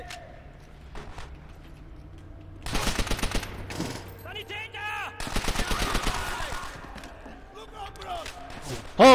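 Gunfire in Call of Duty: World at War comes as two loud bursts of rapid automatic shots with single shots scattered between. A voice talks over parts of the shooting.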